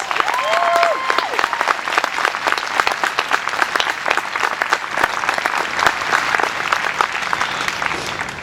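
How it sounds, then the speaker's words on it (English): An audience claps steadily in a hall after a speech by young Black women, a dense, loud round of applause running throughout without letup. "So please give them a round of applause."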